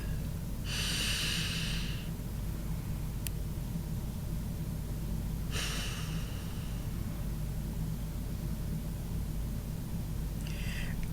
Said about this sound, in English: Bringing full awareness to the breath and the sound of the breath.